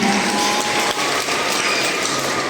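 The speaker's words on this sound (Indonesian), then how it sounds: "Tepuk tangan." Students at a school orientation event clap together in a brisk, fairly loud burst of applause, briefly dipping in the middle before continuing steadily.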